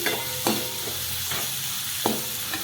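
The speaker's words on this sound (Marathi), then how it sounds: "हळद टाकून याला परतून घेते चांगली परतून घेते" Broad bean pods frying with turmeric in a pan give a steady close sizzle, broken by a few sharp scrapes and clinks of a spatula stirring, with no one speaking.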